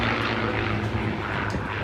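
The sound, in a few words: P-51 Mustang aircraft with Packard-built Merlin V12 engines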